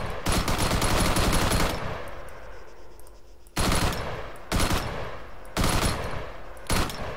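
Automatic rifle fire in Arma 3, with a sustained burst up front, a pause, then several shorter bursts, loud and close with no voices over it.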